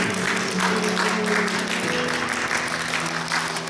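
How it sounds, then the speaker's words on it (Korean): Sustained applause from a church congregation fills the room during a Sunday service, steady and fairly loud throughout, with a low tonal hum running underneath. "우리 청년들을 위해서 또 후원하신 분들을 위해서 뜨겁게 서로 박수를 좀 한번 보내드리겠습니다."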